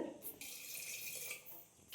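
Water runs steadily from a tap, poured into a pan of mangoes being prepared for a mango curry, a continuous splashing rush lasting under two seconds at moderate closeness.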